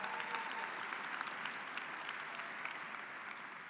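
Audience at an engineering graduate recognition ceremony applauding with dense, even clapping, sustained and distant with no break.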